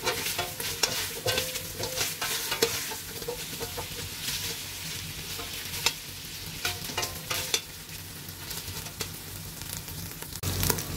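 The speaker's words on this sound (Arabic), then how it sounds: "راح احمسه حمسة خفيفة وارجع لكم." Meat for a dried-okra stew sizzles and fries in a pot while being stirred, with steady frying hiss and frequent scraping stirring clicks throughout, fairly close and with no talk.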